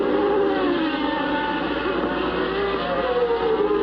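Formula 1 cars race at the 1990 Mexican Grand Prix as Alain Prost dives underneath a Lotus, with a continuous loud, high engine whine holding steady over the crowd-level background noise.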